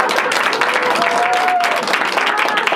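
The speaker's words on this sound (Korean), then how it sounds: "박수 주세요" Steady applause from a concert audience at Space Hangang, dense and continuous throughout at close range, with a faint tonal whistle briefly riding over the clapping.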